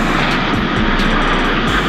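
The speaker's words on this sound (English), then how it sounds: "we out here close to the airport, so you can hear the planes out there in the background." Aircraft flying near an airport make a steady, loud broadband roar with a low engine rumble that stays constant for two seconds, with no talk over it.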